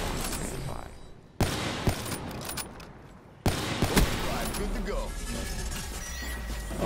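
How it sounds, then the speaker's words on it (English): Minigun fire in Call of Duty Black Ops 3: dense, rapid firing bursts break off abruptly twice and then resume, with gameplay noise and talking over the top. "Oh, now he has a minigun"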